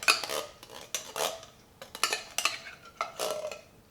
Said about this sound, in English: So we'll empty our black beans into the mix.